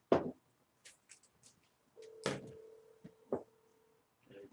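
An outgoing phone call rings: one steady electronic ringback tone holds for about two seconds, surrounded by faint knocks and handling bumps in a quiet room.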